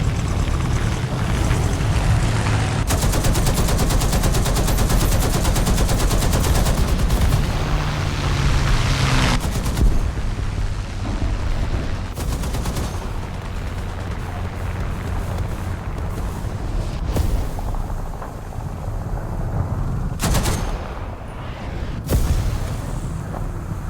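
Heavy booming gunfire and explosions from a video game battle, loud and dense, with long sustained rumbling bursts broken by a few abrupt cuts.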